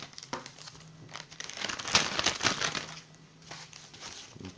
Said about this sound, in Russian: Очередная посылочка с Алиэкспресс пришла. Открываем.